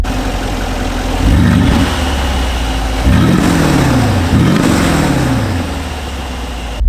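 A Brabus G700 Widestar G-Wagon engine fires up and revs loudly several times, each rev rising and falling in pitch over a steady close-up idle rumble, with no talking.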